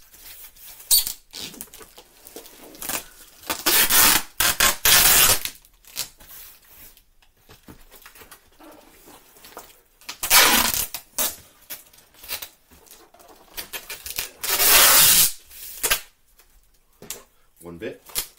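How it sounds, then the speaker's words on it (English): Tape measure handled while weighing something, giving repeated close rattling and zipping bursts of metal tape, some long and loud, separated by quieter handling with speech at times. "Forgive the tape noise."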